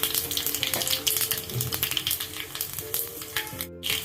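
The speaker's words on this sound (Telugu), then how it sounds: "తర్వాత కొంచెం జీలకర్ర వేసుకుందాం." Cumin seeds hitting hot oil in a pan along with garlic and mustard seeds, giving a crackling, popping sizzle that stays close and fairly loud, with uneven bursts and a brief lull near the end.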